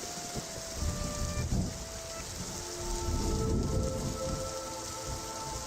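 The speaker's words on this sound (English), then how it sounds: "why is it raining again?" Rain in the point-and-click game The Darkside Detective: a steady hiss of falling rain with faint tonal music notes drifting through, continuous and moderately loud without speech.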